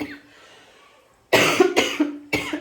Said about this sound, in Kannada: ಇನ್ನೂ ಕೆಮ್ಮು ಹೋಗಿಲ್ಲ,